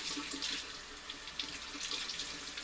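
Tap water runs steadily into a kitchen sink while a piece of corned beef is rinsed under it, a continuous close hiss and splash with no talking.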